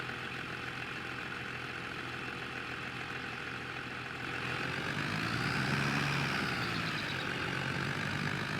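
Tractor engine in Farming Simulator 22 on an old iron farm, a continuous droning idle with harmonic hum that swells louder about halfway through as revs rise and pitch bends, alone without talk.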